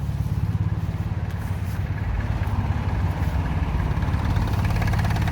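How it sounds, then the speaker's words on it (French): A Lombardini 550 small engine runs steadily at idle, a loud, even, rapid chugging with no pauses from start to finish. "maintenant je vais vous faire démarrer le Lombardini 550"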